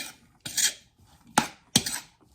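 A spoon scrapes and clinks against a bowl while crab rangoon filling is mixed with a pinch of salt, in three or four short, distinct strokes separated by quiet gaps, close by with no talking.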